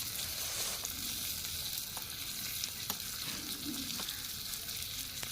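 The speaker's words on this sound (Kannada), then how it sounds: "ಒಂದು ಸ್ವಲ್ಪ ಉಳ್ಳಾಗಡ್ಡಿ ರೀ ಉಳ್ಳಾಗಡ್ಡಿ ಹಾಕಿ ಮಿಕ್ಸ್ ಮಾಡ್ತೇನೆ" Onion fries in a miniature kitchen pan with a steady, close sizzle. Occasional stirring clicks and scrapes break through it, and no one speaks.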